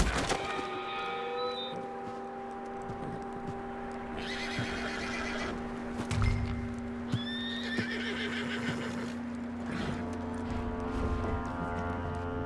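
A horse in Red Dead Redemption 2 neighs and whinnies several times over a steady low hum, with scattered hoof clip-clops and thunks, loud and close.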